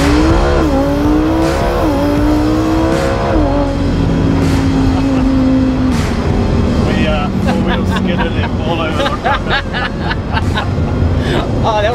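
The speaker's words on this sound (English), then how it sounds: "Now he's going to do a launch in the Lambo." A Lamborghini hypercar does a launch start, its engine revving up in loud rising pulls with gear shifts before fading into a strained roar. Voices and crowd chatter sit underneath.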